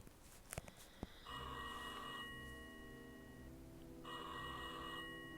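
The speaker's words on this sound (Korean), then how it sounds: "어, 전화가 왔네." Telephone ringing in the puzzle video game Rusty Lake Hotel: a few sharp clicks, then a steady electronic bell rings in two bursts over a low ambient drone, loud and close.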